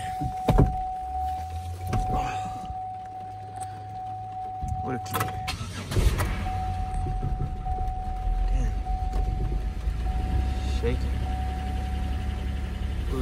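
Chevrolet Caprice with a 6.0L engine cranks over in a couple of short bursts, then catches and settles into a low idle, with a few clicks and thumps and a steady high tone underneath, close up.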